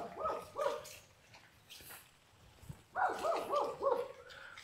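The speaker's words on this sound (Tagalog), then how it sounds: "May aso." A dog barks in two quick clusters of several close, fairly loud woofs, with a pause between them and faint background noise.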